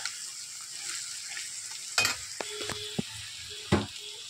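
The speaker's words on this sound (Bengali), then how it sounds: "আর এখানে দেখো চাউমিন বানাচ্ছি" Chowmein with capsicum, chicken masala, pepper, potato and onion stir-fries in a pan: a steady low sizzle with a few sharp utensil scrapes and clinks against the metal, close and moderately loud, no voices.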